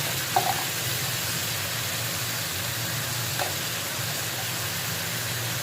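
Chicken and vegetable rice frying in a pan for biryani, a steady broad sizzle throughout with a couple of faint clicks of a spoon, no talking.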